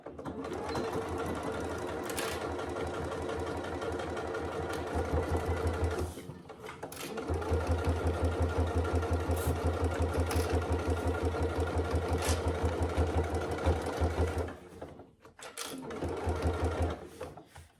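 A sewing machine runs along the seam of a fabric wash bag, its needle chattering rapidly and close in long steady runs. Brief stops fall around six and fifteen seconds before stitching resumes.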